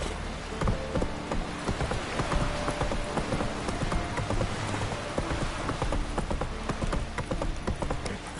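Roach, Geralt's horse in The Witcher 3, gallops in a steady rapid clip-clop of hooves, close and continuous, with a rain-like patter of ambient noise behind it.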